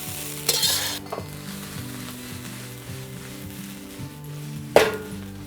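Vegetable fried rice with scallions being stirred and tossed in a hot pan: a steady soft sizzle with scraping spatula strokes and a couple of louder tossing bursts, close and without talk.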